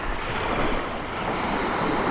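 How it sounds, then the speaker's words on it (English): Steady wind roars across the microphone with surf washing in the background, loud and continuous, on the beach at Withernsea on England's east coast. "It's getting a bit windy now"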